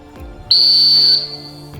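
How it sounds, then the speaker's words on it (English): A single sharp, shrill whistle blast on a duck hunt outdoors, loud and close, held for under a second before fading, with faint background noise. "11 o'clock, Hunter. Whistle."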